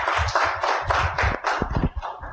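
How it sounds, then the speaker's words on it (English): Broadband clapping from a conference audience fills the clip at a steady loud level, dense and continuous, with a few sharper individual claps standing out near the end. "a big round of applause"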